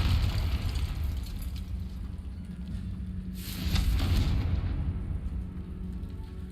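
Confringo spell blast in the Hogwarts Legacy video game, a broad rumbling burst swelling midway over continuous game ambience, moderately loud, with no talk.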